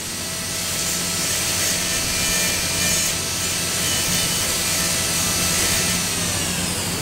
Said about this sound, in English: So with the help of inverted cone burr, we can finish gingival floor.